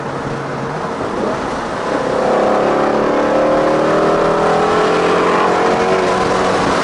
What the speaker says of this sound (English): Again, a quick jab of the throttle. You're going to bring the car down into 4th gear.